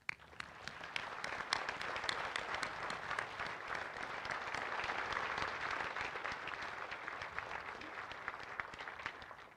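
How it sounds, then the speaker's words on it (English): Crowd at a Pearl Harbor remembrance ceremony claps in sustained applause, a fairly distant, even wash of many hands with sharper individual claps poking through, swelling slightly midway before tapering. "Please join me in offering a heartfelt round of applause"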